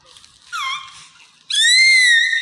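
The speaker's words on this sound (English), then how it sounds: "Who taught you how to scream like that?" Baby in its first six months letting out high, piercing screeches: a short shrill cry, a pause, then a longer, louder sustained scream, close and alone without talk.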